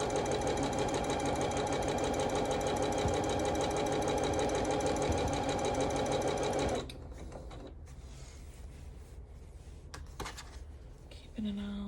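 A domestic sewing machine stitches a quilted Calico Snails table runner with a fast, steady mechanical whir and chatter that runs loudly for about seven seconds, then stops, leaving quiet handling noises and faint clicks.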